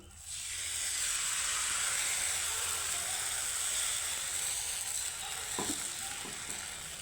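Batter ladled into a hot pan hisses into a loud, steady sizzle that holds for several seconds, with faint scraping clicks near the end.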